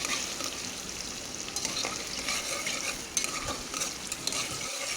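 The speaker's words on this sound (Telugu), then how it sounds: "ఇందులో 4-5 పచ్చిమిరకాయలు వేయించుకోండి" Four or five green chilies fry in a hot pan while being stirred, giving a steady close sizzle broken by the scrape of a utensil against the pan throughout.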